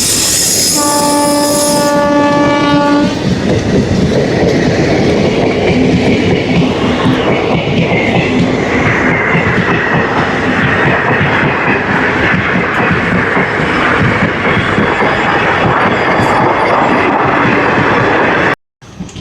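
The Padmavathi SF Express approaches the Krishna river railway bridge with a loud two-tone horn blast at the start, then a heavy, continuous roar of wheels and carriages rumbling close by until an abrupt cut.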